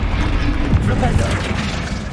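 A Flipendo spell goes off in the Hogwarts Legacy video game, a dense, continuous rumble of booming magical combat impacts at steady loudness, with a voice speaking over the fray.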